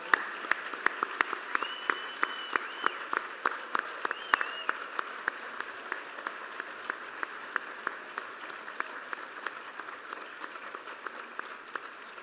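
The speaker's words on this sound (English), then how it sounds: "Please join me in a round of applause." An audience at the St. Croix Central High School 8th grade promotion applauds the class of 2029 with long, steady clapping in a large room. Distinct nearby claps punctuate the wash of applause, and a few whoops rise briefly early on.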